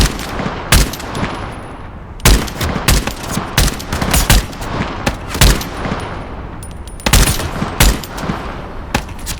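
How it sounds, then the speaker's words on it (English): Enemy gunfire in the Into the Radius 2 video game cracks out as loud, sharp single shots and short bursts spaced every second or two, with distant echoing reports between them and no talk. "Where's that other guy shooting from?"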